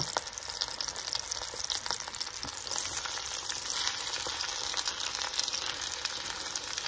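Mixed vegetables sauteing in a pan for chicken and dumpling soup give off a steady, close sizzle with light crackle and occasional stirring scrapes, continuous throughout with no voices.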